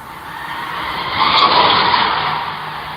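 A car skids with a sustained tire screech that swells to a peak midway and then eases off slightly, loud and fairly close, with no speech.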